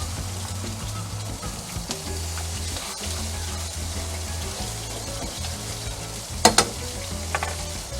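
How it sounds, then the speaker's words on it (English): Adobo sauce with coconut vinegar bubbles and sizzles around chicken wings in a pot, a steady close frying hiss with a couple of sharp utensil clinks near the end. "we're going to add the sauce back to the pot. And we're going to let this reduce a bit."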